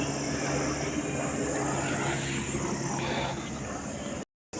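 A helicopter passes overhead on the Vaishno Devi pilgrimage route, a steady droning engine and rotor rumble mixed with outdoor background noise before the sound cuts off abruptly.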